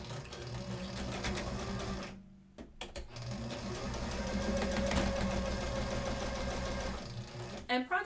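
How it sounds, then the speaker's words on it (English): Domestic sewing machine stitching men's pants fabric at an angle, a close rapid mechanical chatter running in bursts with a short pause, while a person talks over it. "I'm gonna do my best to sew at an angle."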